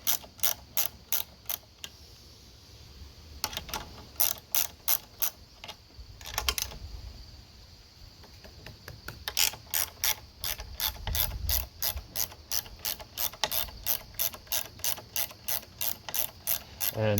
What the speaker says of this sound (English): That's why I'm using this ratchet box end